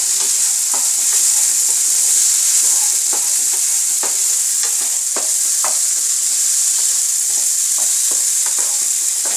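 Rice and potatoes fry in a pan with a bright, constant sizzle. Repeated scraping strokes of a stirring spoon are heard up close, loud and continuous, with no voices.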